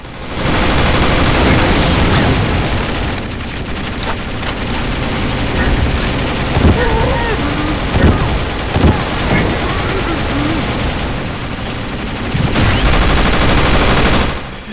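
Dense, sustained automatic gunfire from a Counter-Strike zombie escape map, with rapid overlapping shots that fill the whole stretch, easing briefly in the middle before building again.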